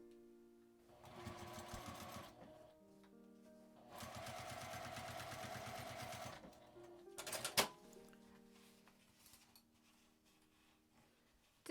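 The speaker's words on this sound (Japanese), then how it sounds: "表布にポケットを重ねて端を5ミリくらい縫っておきます。" A sewing machine stitches a pocket onto outer fabric about 5 mm from the edge, running in two bursts of rapid mechanical stitching, then a few clunks and a short whir, with quiet gaps between.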